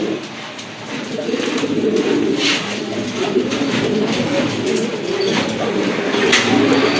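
Pigeons coo at a poultry farm, a steady low murmur of overlapping calls that continues throughout, close by and moderately loud.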